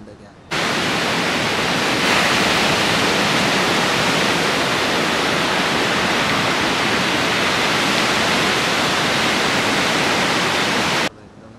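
Sea surf at Malvan beach on the Maharashtra coast, a steady loud roar of breaking waves that begins abruptly and washes on evenly for about ten seconds before cutting off, with no voices over it.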